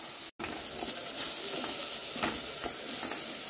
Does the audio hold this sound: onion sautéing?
yes